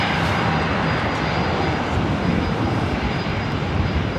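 An Alaska Airlines Boeing 737-800 jet at LAX gives off a steady, broad engine roar with a thin high whine, fairly near and unbroken for the whole stretch, with no voices.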